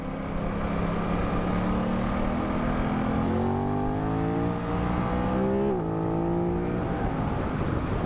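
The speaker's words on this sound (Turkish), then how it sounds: "Ya şu quick shifter'ı kullanırken çok güzel böyle patlatıyor egzoz." A motorcycle with a quick shifter accelerates hard, its engine note climbing steadily, then dropping abruptly at an upshift before rising again. The exhaust is loud and close, with a continuous droning whine throughout.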